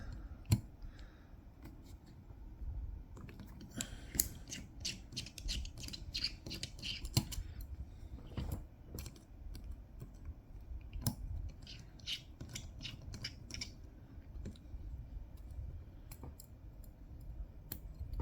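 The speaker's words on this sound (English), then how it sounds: "we'll go ahead and take these other screws off on this side" Screws being unscrewed during disassembly of a Redencion 299 Blue Label knife, a faint close series of small metallic clicks and ticks scattered irregularly over quiet background, no talking.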